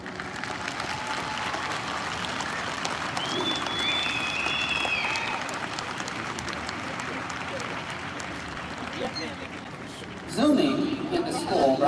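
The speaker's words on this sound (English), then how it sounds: "give them your applause" Graduating students at a California State University Long Beach commencement applaud their supporters, a dense, sustained wash of clapping from a large crowd that swells louder near the end, with some background voices mixed in.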